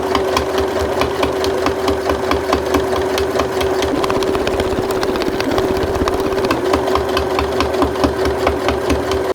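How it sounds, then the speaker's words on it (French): Sewing machine stitching bias binding onto a handmade travel pouch, a steady close whirring with a fast even stitch rhythm running continuously without pause. "je vais commencer à le coudre d'un côté et je ferai l'autre après"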